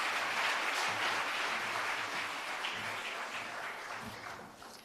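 Audience applause for a professor at a college capacity-building workshop, a steady wash of clapping from a crowd that slowly fades toward the end.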